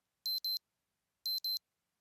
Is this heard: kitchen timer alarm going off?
yes